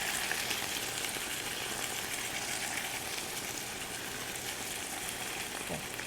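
Chili beef with soy sauce is frying over high heat, producing a steady, dense sizzle close by and without talk.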